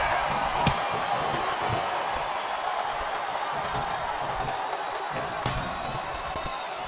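A wrestling match in the video game WWE SmackDown vs Raw 2007, with a steady wash of arena crowd cheering and a couple of sharp slam impacts cutting through.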